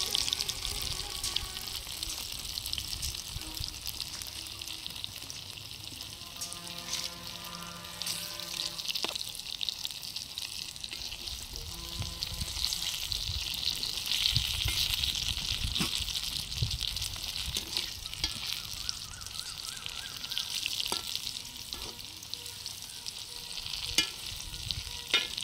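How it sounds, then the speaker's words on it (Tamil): Panana fish frying in hot oil, a steady bright crackling sizzle that carries on for the whole stretch, with occasional clinks and stirring noises and some running water at times in the background. "அப்படியே எண்ணெயில் பொரியுத பாருங்க"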